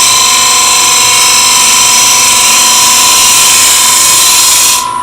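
An end grain hollowing tool cuts wood spinning on a lathe, a loud, continuous close-up whine with a steady high tone and broad hiss that holds evenly before easing off at the end.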